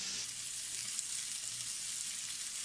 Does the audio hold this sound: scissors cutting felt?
no